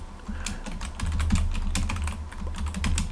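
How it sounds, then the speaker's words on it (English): Steady run of close keystrokes on a computer keyboard while writing for a Commodore 64 BASIC compiler, irregular clicks continuing alone for about three seconds over a low background hum. "Okay, so I'm going to type as I say this."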